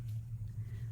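Low, steady rumble of trucks passing outside, a continuous muffled engine drone heard faintly through the walls with no talk over it.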